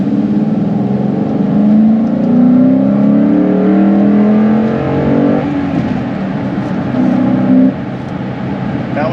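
A 2009 Mustang GT California Special accelerates in second gear at about 20 mph. The V8 is loud and close, its rising engine tone climbing steadily before the revs ease off near the end.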